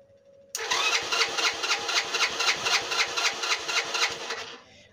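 A motorcycle's electric starter cranks steadily for about four seconds in a rapid, even pulsing rhythm, close and fairly loud, while the engine fails to catch, then the cranking stops.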